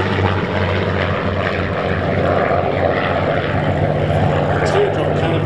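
Spitfire propeller fighters at the Duxford Flying Legends air show give a loud, steady engine drone that holds evenly throughout, with no clear rise or fall.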